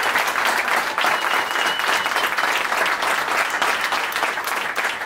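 A large welcoming crowd at an airport homecoming gives Olympic champion Jovana a big round of applause, loud continuous clapping that stays steady throughout with no voices standing out.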